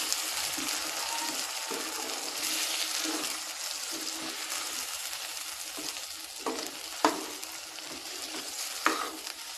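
Ground peanut, coconut and black sesame sizzle steadily in a pan, a continuous frying hiss with occasional scraping clicks of stirring toward the end.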